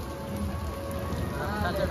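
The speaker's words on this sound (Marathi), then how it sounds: "पाऊस पाऊस पाऊस पाऊस आणि पावसाने रस्ता काय झालाय बघा" Steady rain patters on a Mumbai road during a Ganesh immersion procession, a constant wash of drops close by with a faint voice or two in the background.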